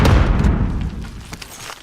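A deep, rumbling grenade explosion from the video game Call of Duty: Warzone booms at the start, then slowly decays into a lingering low rumble with scattered crackles.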